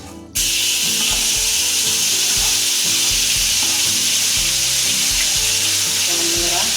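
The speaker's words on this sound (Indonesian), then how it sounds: "Kita tumis dulu bumbu yang digiling halus." Finely ground spice paste sizzles loudly in hot oil for a Minang-style beef soup, a steady dense frying hiss with soft scraping stirs underneath, starting abruptly and holding strong throughout.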